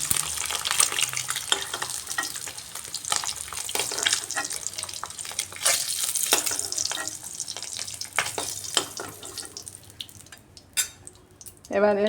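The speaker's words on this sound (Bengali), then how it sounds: "এই জন্য একটু কড়া করে বেজে নিচ্ছি ডিমগুলাকে" Eggs frying crisp in hot oil, a loud dense crackling sizzle full of rapid spattering pops that eases toward the end as clinks and a scrape follow.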